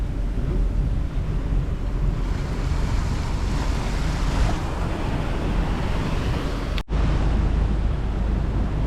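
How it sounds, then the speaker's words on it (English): Steady rush of 3-foot following seas and wind buffeting a boat in New York Harbor, broadband and continuous near the hull, with a brief sharp dropout near the end. "Got some 3-foot waves following seas right now, so not too bad."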